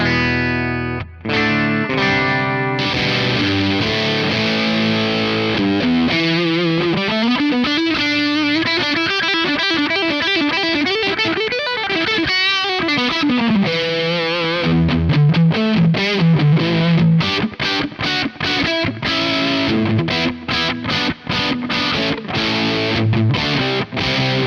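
An overdriven electric guitar runs through a Schmidt Array SA250 distortion pedal built around an LM308 chip, playing sustained chords and busy riffs at steady, loud volume with no talking.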